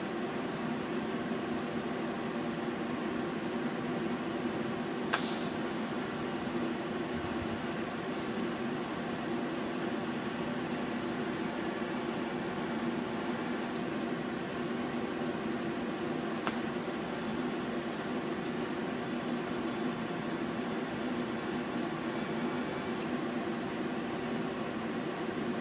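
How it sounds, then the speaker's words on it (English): TIG welding fuse tacks without filler wire on a 2 inch pipe cap, a steady faint hiss over hum, with two sharp arc starts, each followed by a high sustained buzz, quiet and with no talk. "just gonna do a little fuse tack here to start out with here without any filler wire"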